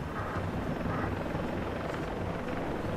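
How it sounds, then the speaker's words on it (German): A helicopter in the video game Far Cry 3 gives a continuous, loud rotor whir and engine roar that fills the whole stretch with a dense, steady wash. "Mit dem Hubschrauber?"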